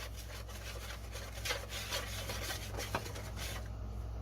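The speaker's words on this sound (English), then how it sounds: "we're just going to give this a nice whisk" A whisk stirs dry doughnut batter ingredients in a bowl, making soft, steady scraping and rubbing sounds up close, with a couple of brighter taps.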